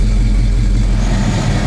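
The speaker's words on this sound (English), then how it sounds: "It's been idling for a while." A 1971 Chevrolet Chevelle engine idles steadily and loudly up close, a continuous low rumble with no talking over it.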